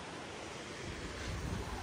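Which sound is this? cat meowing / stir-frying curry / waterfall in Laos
waterfall in Laos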